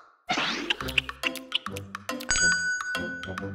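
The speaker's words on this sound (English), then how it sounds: "Don't ring the bell too much." A restaurant service bell rung over and over in quick succession, bright repeated dings close by, set among cartoonish clatter and effects.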